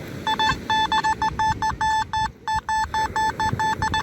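Metal detector tone signalling a buried euro 50-cent coin, a rapid series of short, bright repeated beeps pulsing steadily and loudly, with a brief gap midway, over soft outdoor background noise.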